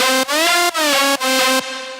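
Synth saw wave lead with a retriggered LFO, sustained notes whose filter sweep restarts on every new note, four bright buzzing notes in succession, loud and close with no talking.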